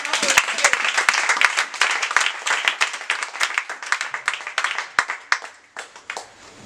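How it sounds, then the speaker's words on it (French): A church congregation applauds and claps together in a lively burst during a French sermon on women in the life of Jesus Christ, the clapping thinning out toward the end with some voices mixed in. "Acclamons."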